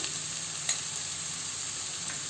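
Half a spoonful of garlic frying in oil in a pan, with a steady, close, even sizzle all the way through and one small clatter partway in.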